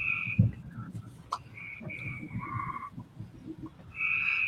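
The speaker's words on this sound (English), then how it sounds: "Hey, Bacon, my frogs are saying hey." Frogs croak outdoors in a steady chorus of repeated calls, some nearer and louder, continuing throughout with no talk.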